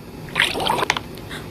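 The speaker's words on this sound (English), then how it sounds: "It's a choco river." Flowing chocolate river in a Roblox candy factory, a short soft liquid trickle and bubbling burble with a few brief drips, fairly quiet and heard alone.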